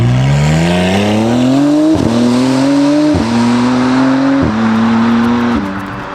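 A 720hp Novitec McLaren Artura with a race exhaust system accelerates hard, its engine note climbing loud and close through several rising gear pulls, each broken by a sharp shift.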